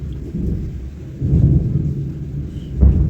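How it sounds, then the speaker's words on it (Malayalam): Deep thunder rumbles roll in with the patter of rain, swelling twice and ending in a heavy, close crack. "നല്ല ഇടിയൊക്കെ വിട്ടിട്ടുണ്ടല്ലോ മഴ വരാൻ ഉണ്ട്"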